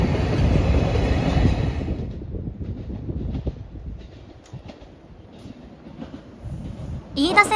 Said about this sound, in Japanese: 飯田線の電車がやってきましたが、